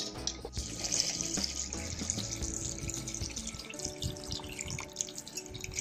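Water pouring steadily into a cooking pot, a continuous splashing stream whose pitch rises as it fills, close by with no speech.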